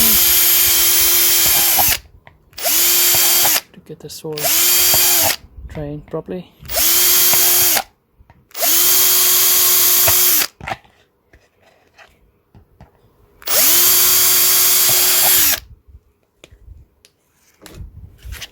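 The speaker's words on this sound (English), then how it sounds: "So just drill some few holes here" Several loud bursts of a power drill whirring as it drills holes in a pot, each a couple of seconds long with short pauses between, close by, with a brief spoken remark near the end.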